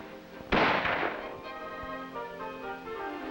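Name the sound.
M14 rifles firing on a shooting range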